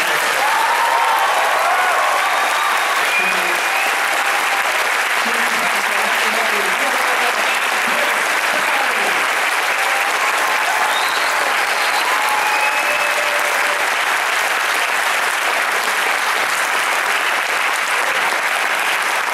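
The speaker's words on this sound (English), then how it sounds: "Please give a massive round of applause." A large crowd claps loudly and continuously for the cast at the close of a Red Dwarf panel at a comic con, sustained dense applause with scattered cheers filling the whole stretch.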